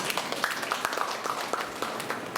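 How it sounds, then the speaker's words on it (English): Audience applause at a college exhibition of wild vegetables and medicinal plants: a steady patter of many hands clapping together, moderately loud and sustained throughout, with no clear voices over it. "Let's give a big round of applause for her."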